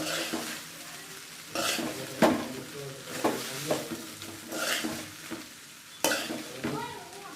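A spoon stirs vegetable masala rice made with basmati in a hot pan, giving repeated scraping strokes and clinks against the metal over a soft sizzle, with occasional louder knocks.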